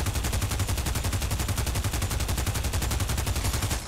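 A rapid, steady stream of automatic fire from a PP Bison submachine gun in the virtual reality game Pavlov VR, loud and close, rattling evenly for about four seconds without a break.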